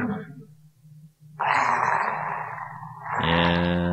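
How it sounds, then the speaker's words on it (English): Alien creature noise from a heavy floater in the strategy game X-COM: Enemy Unknown, indoors: a low rumbling drone rising into a loud, harsh hissing roar, then a buzzing tonal growl near the end, with no talk. "that sounds like it might be a heavy floater"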